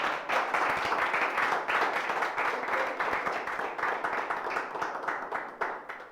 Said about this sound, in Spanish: Tú quieres dar un aplauso, dalo a ver si te imitan.